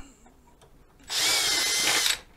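A power drill removes the screws holding the shroud on a Pride Mobility Go-Go Elite Traveller scooter, giving one loud, close, steady whir of about a second after a short quiet pause.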